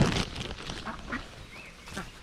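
Ducks at an animal enclosure give several short, raspy quacks in scattered bursts at moderate distance, with light background noise and no talking.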